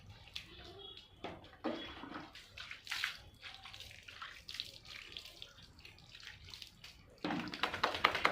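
Water splashes and sloshes as a pet, a mother about two months after giving birth, is bathed, with irregular pouring and splashing bursts at close range and a louder stretch near the end; no talking.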